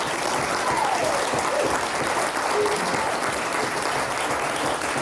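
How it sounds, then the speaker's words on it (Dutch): Warm audience applause at a dictation contest event in Arnhem, dense and even clapping filling the room for several seconds, with a faint voice or two beneath it. "Een hartelijk applaus voor Philip Frederiks."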